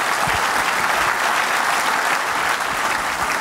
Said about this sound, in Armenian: ծափարենք Թադեին